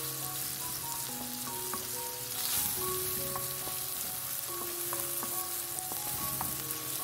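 Eggplant or bitter gourd frying in a pan, a steady close sizzle and crackle with stirring scrapes throughout and no talk.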